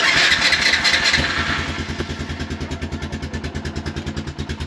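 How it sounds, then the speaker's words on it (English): A Honda Foreman ATV engine, run on fresh gas with a jumper pack attached, cranks and catches, then settles into a loud, steady, rhythmic idle thump close by. "Seems like she starts up, but that is a good sign. So gas and a jumper pack did the trick."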